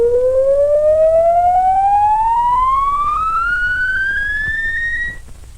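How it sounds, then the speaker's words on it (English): A steady pure tone from an audio signal generator played through a loudspeaker, rising smoothly in pitch over several seconds before cutting off, loud and alone. "This produces a signal in the loudspeaker that sounds like this, as it is adjusted through its frequency range."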